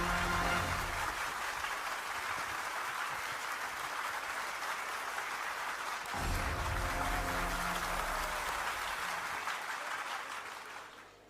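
Sustained applause from an audience at a religious cultural program in Ahmedabad, steady crowd clapping with a brief surge midway, fading out at the end.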